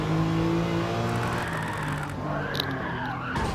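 A car drifting in Gran Turismo 7, driven with a steering wheel, gives a steady, loud engine drone with tonal harmonics that holds for a few seconds and shifts slightly near the end. No one speaks over it.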